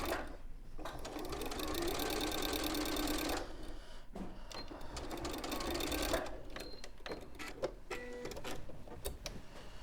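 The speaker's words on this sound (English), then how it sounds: "we're just going to sew it together at the short edges to make a ring" Domestic sewing machine stitching the short edges of a fabric band into a ring, running in two steady bursts of rapid mechanical rattling with a short pause between, then lighter handling clicks.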